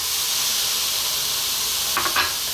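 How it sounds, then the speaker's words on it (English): Onions dry-fry in a hot pan without oil, making a loud, steady close sizzle and hiss with a couple of brief stirring scrapes near the end and no talking. "We're going to drop our onions into a dry pan"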